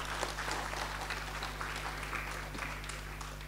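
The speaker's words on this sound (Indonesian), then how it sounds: "Tepuk tangan dulu." Steady applause from a sizable lecture audience fills the clip, a dense wash of clapping at moderate volume over a low background hum.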